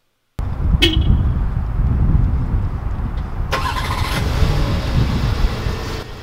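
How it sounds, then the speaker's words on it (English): A 2021 Volkswagen Atlas SUV engine cold start: it cranks and fires up, settling into a rough idle, with a short chirp early on and a brief tone partway through. "Let's get a cold start, see how that sounds."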